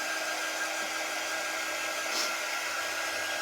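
A hair dryer blows steadily on a small painted craft piece, a dotted deer in shimmery gold, giving an even, close, continuous rushing whoosh with no talk.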